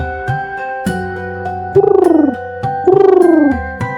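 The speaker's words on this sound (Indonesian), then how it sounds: "Pernahkah kalian mendengar suara burung deruk atau tekukur?" A spotted dove coos in a soft, rhythmic phrase, with two longer rolling, falling calls between short notes, close and clear against a quiet background.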